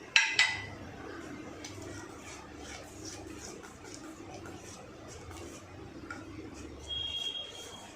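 A spoon stirs bottle gourd kheer in a metal pot, with a sharp clink at the start followed by soft, repeated scraping and light clinks against the pan.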